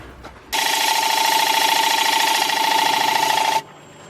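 A wood lathe spins a bowl as a tool cuts its edge, a steady high whirring drone that starts abruptly, runs about three seconds loud and close, then cuts off.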